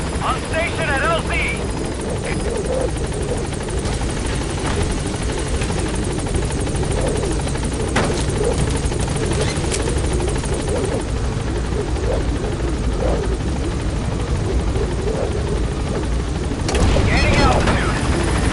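B-Quad support helicopter in Metal Gear Solid V: The Phantom Pain, rotor drone loud and steady throughout as it arrives at the landing zone, with scattered booms and gunfire and radio voices talking over it.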